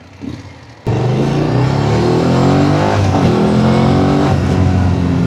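A 2024 BMW F750 GS motorcycle fitted with an Akrapovic exhaust kicks in abruptly and accelerates hard, its loud engine note rising steadily and close up with no speech.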